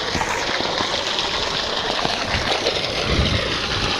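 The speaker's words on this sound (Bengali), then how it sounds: "দেখতে পাচ্ছ বন্ধুরা কত স্পিডে জল পড়ছে" Water gushes fast and steady from a pipe while filling containers out in a field, a continuous broadband rush with a gurgling, splashing texture held at close range throughout.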